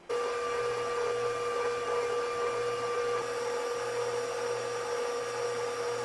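Electric stand mixer creaming butter and sugar, starting abruptly and running as a steady motorized whir with a constant tonal hum and a low pulsing undertone throughout.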